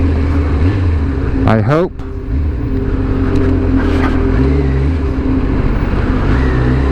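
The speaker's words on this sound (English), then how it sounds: "she sounds wonderful, she's reacting to the throttle wonderful" A Kawasaki ZZR 1100 motorcycle engine, recently repaired after hydro lock, runs loud and close with throttle blips raising its pitch, while someone talks over it.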